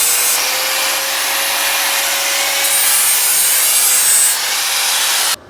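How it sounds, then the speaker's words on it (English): A grinder works steadily on a metal gusset for an E92 roll cage build, a loud continuous abrasive hiss with a faint whining tone that runs unbroken for several seconds and then cuts off abruptly. "I'm just gonna grind it."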